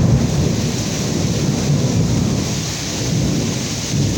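Low, rolling rumble of thunder over steady heavy rain in a Texas storm, the rumble swelling and fading in soft waves throughout.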